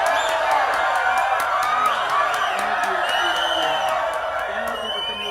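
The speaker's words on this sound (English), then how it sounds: "Let's give a huge round of applause to one of my closest friends" A studio audience at a talk show applauds and cheers steadily throughout, a dense wash of clapping with whoops on top, staying loud and close before easing slightly toward the end.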